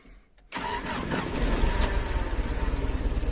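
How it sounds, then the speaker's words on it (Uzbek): A GAZelle van's engine cranks and catches after a brief quiet moment, then settles into a loud, steady, close-up running rumble with no talking. "Motorda mana o'zimizdan videoda yurgizaman."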